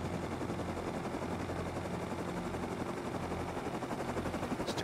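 A helicopter in the Rust video game flies with a continuous, dense rotor and engine roar that stays steady and loud throughout, with no speech.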